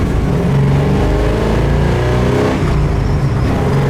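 A 1968 Chevelle muscle car engine rumbles loud and close, revving up with a rising throaty tone before settling back, with no talking.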